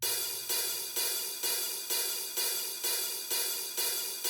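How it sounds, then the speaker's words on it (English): A hi-hat keeps a steady, even beat, one crisp metallic hit roughly every half second, ringing briefly between strikes, with no voices. "he's only playing the hi-hat,"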